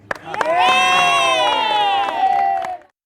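An audience at a children's theatre camp in Thrissur bursts into loud, sustained cheering, with many voices shouting together in unison and sharp claps, before it cuts off abruptly.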